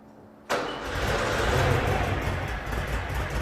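A warm Volkswagen engine fires up abruptly and settles into a steady, fairly loud idle, with no voices over it.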